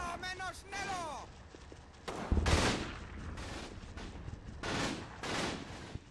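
Infantry squads trading rifle and machine-gun fire in the Combat Mission: Battle for Normandy wargame, scattered bursts and single shots of moderate loudness, with a voice shouting briefly at the start.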